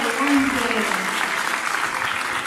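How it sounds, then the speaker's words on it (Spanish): An audience applauds an Argentine singer taking the stage at an EWTN music event, a steady wash of clapping while a voice speaks over it near the start. "Le damos un fuerte aplauso"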